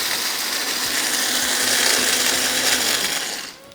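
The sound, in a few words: electric grinder grinding whole garam masala spices into fine powder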